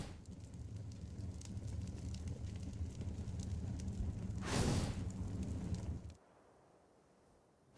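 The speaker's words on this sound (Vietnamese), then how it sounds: "nó lại tiếp tục dùng chiến thuật bay lên trên cao và phun lửa vào người của đối thủ mình" Reshiram breathing fire in an ARK Pokemon mod game: a steady roaring, rushing blast of flame that swells briefly in the middle, then cuts off abruptly into near silence.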